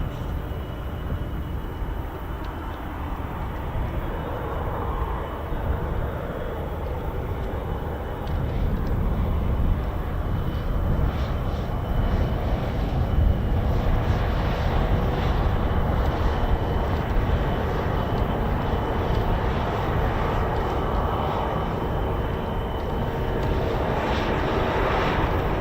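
A JF-17 multi-role fighter jet arriving at RAF Fairford during the Royal International Air Tattoo, its engine a steady broad roar that grows slightly louder partway through and holds at distance, with no talk over it.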